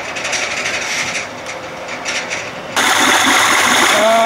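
A 1992 Johnson 60 hp outboard idling while warming up: a steady mechanical drone that jumps suddenly louder and brighter partway through, then holds at the higher level.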